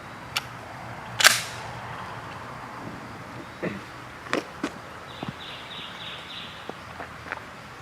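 A few sharp Glock carbine gunshots ring out outdoors, spaced irregularly over several seconds, with one loud crack near the start followed by quieter distant reports and faint background noise.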